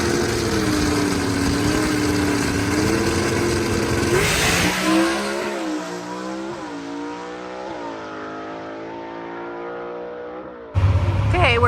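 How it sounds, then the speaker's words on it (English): A race car on a Thursday test pass, its engine howling in steady revving bands that rise and fall with a burst of tire spin around the middle, then cutting off before a sharp final roar; speech-like sounds mix in. "We made our second pass. What's going on with the car, guys? Spinning the tires a little bit."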